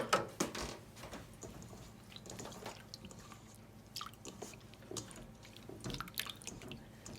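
Water is poured into a bowl holding salted cod milt for soaking, giving soft, close splashing and dripping at low volume.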